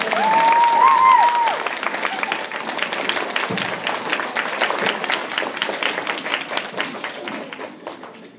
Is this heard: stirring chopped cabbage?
no